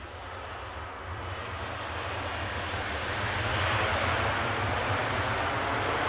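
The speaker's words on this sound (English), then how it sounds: "The reverse is very silently deployed on that EasyJet. Wasn't much of a kickback of noise from them." An EasyJet airliner rolls out after landing at Edinburgh airport with reverse thrust deployed, a broad jet roar that swells gradually and then holds steady at a distance.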